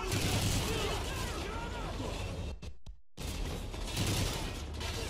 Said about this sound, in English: With all these people shooting at me